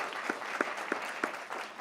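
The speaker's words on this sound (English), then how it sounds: "So I want to get a round of applause just for the staff from CollegeBound for allowing this for us here." Applause at a CollegeBound Awareness Month ceremony for the CollegeBound staff, a brief round of clapping from a small crowd.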